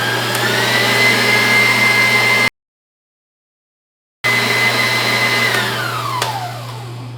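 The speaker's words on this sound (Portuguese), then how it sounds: "Depois, no meio aqui do processo, eu rasparei a lateral aqui da bacia da batedeira." Stand mixer beating cake batter in its bowl, a steady loud electric motor whir interrupted by a short complete stop, then resuming and gradually winding down at the end.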